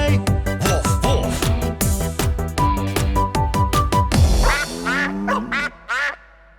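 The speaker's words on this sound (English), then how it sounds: "What does a duck say?" A cartoonish duck quacks repeatedly in a children's song, loud bursts of quacking over music that ends in a few squeaky sliding calls.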